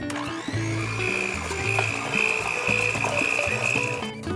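Electric hand mixer beating blueberry muffin batter, a steady close motor whine with a rough, shifting low rumble that holds for about four seconds.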